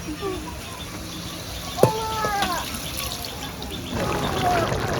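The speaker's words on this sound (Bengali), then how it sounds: "দই পটল করার জন্য তো বেশি জল দেওয়া লাগে না তাই হালকা একটু জল দিয়ে দেব" A little water trickles and splashes into a pan of curd-based pointed gourd korma, a short close pour with brief liquid spatter, while faint background voices chatter and a mild kitchen hiss runs throughout.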